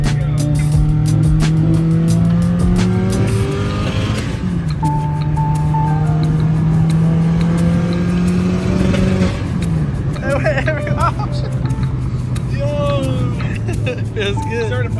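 A Subaru WRX drives hard with engine revs rising and falling, tire noise and passing traffic around it, loud and close throughout, with occasional voices over the engine.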